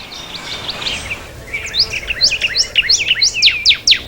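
A cardinal sings a loud, close series of clear, repeated whistled slurs, first a short run of notes, then a faster, sweeping phrase that keeps going to the end.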